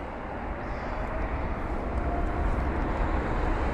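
Aircraft engines spooling up on runway 27 left at London Heathrow, a distant broadband roar that swells gradually and keeps building.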